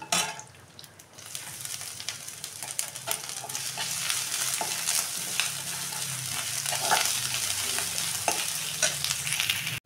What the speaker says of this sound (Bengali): গ্রেট করা আদাটা দিয়ে দিলাম।